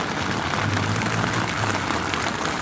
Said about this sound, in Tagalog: Biglang bumuhos ang ulan eh.